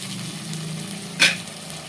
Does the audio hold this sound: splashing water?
no